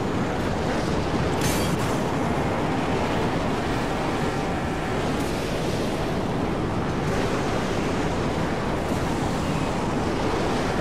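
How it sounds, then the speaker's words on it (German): Strong wind gusts through the Mad Max video game, a steady broadband roar with surf-like swells rising and falling throughout, with no voices. "Boah, ist der Wind übel"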